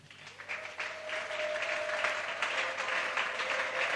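Church congregation applauding during a family consecration and vow renewal service, a swelling wash of many hands clapping that builds and holds steady, moderately distant, with no speech over it.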